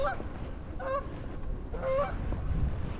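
Geese honk three times in separate nasal calls spaced about a second apart, moderately close over low wind-like background noise.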